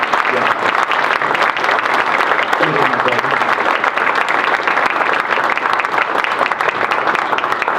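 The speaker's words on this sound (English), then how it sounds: "please give them a round of applause" A dense, sustained burst of audience applause fills a chapter ceremony hall, steady and loud from start to finish, many hands clapping together with a faint crowd murmur underneath.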